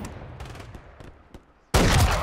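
Gunfire in the Call of Duty Modern Warfare 3 video game, several quick shots popping close by, then a loud sustained burst of fire at the end, with no talk.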